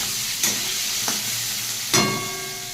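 Soybean chunks fry in hot oil with a little salt, giving a steady close sizzle broken by three sharp stirring clatters, the loudest near the end.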